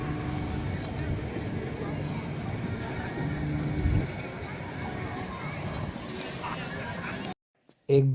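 Carriage horses in the old town of Bruges, Belgium, with hooves clip-clopping on the street and an occasional neigh amid steady street bustle, passing traffic and crowd chatter, cut off abruptly near the end.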